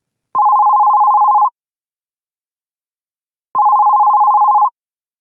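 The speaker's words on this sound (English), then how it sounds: "The phone rang at 4:47 p.m." A telephone rings in two long trilling bursts separated by a few seconds of silence, each ring clear and steady at close range with no voices.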